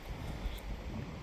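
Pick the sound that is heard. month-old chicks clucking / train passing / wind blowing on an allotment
wind blowing on an allotment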